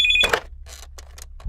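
A landline telephone rings in a brief electronic burst at the start, followed by scattered clicks and knocks in a quiet room, with no speech.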